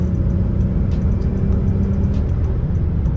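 A 2021 Chrysler 300S in sport mode accelerates hard, its engine producing a steady low droning rumble inside the cabin with faint ticking above, moderately loud and without speech.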